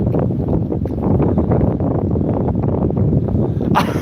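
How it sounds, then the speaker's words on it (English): Strong wind roars at the seaside in Withernsea, East Yorkshire, buffeting the microphone in heavy, continuous gusts, loud and rough throughout. "It is blowing."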